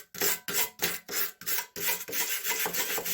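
Rhythmic rasping strokes of rust being scrubbed off an old Gaudin wood-burning stove part, about ten close, loud back-and-forth scrapes in steady succession with no talking.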